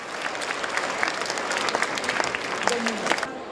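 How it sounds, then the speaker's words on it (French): An awards-ceremony audience at a Paris chocolate show claps steadily for a few seconds, a dense moderate wash of applause with faint voices mixed in near the end. "Je demande d'applaudir très fort également."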